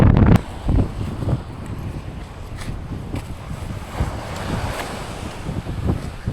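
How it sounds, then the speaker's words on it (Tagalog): Strong wind buffets the microphone at sea, a steady roar with heavy low rumbling gusts and surf or water noise throughout, with no speech. "Malakas yung hangin nyo."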